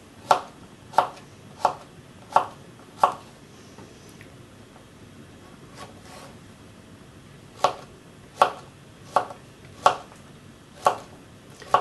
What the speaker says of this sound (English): Then I'm going to bridge it and then claw and cut into pieces.